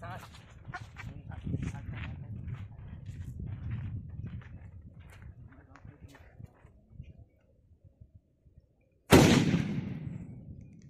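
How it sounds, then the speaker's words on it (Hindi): A size 4 Top Tiger Bomb firecracker bursts with one sudden, loud blast after a stretch of chatter and background voices, the bang trailing off quickly. "और ये है 4 नंबर साइज का टॉप टाइगर बम"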